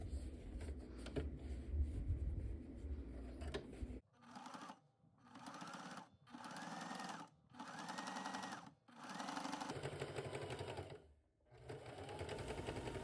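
A sewing machine stitching a jelly roll rug made of cotton fabric strips and batting: a rough stretch of noise, then short bursts of whirring stitching separated by brief pauses, fairly close.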